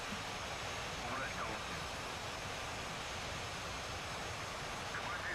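MiG-19P jet engines roaring at full throttle in a flight simulator game, a dense, steady broadband roar that stays constant and fairly loud throughout.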